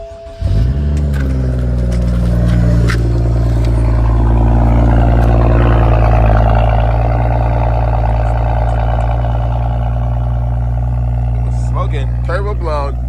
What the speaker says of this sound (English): Turbo blown. Hear that? Turbo gone.